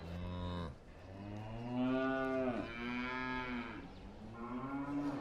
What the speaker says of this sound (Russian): Это корова, да?